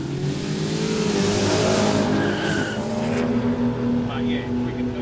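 At a no-prep drag racing event at Kooralbyn Valley, a nitrous-equipped street car launches with loud squealing tires and a roaring engine close by, the screech holding steady over several seconds amid crowd noise.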